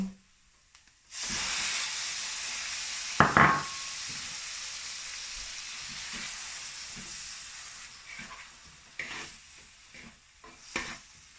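Tomato hits a pan of hot spices for mushroom curry and sizzles loudly. A steady frying hiss follows, with occasional clinks and scrapes of stirring.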